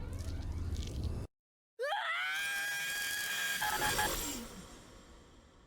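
A character in the Gnosia anime lets out a long, loud scream after a brief silence, rising and sustained for a few seconds before trailing off into groaning, with noisy sound before the break.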